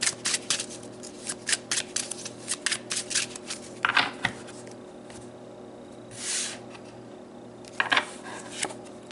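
Tarot cards being shuffled and pulled, a run of quick papery riffles and flicks in irregular bursts, with a few louder slaps and swishes later, close and alone without talk.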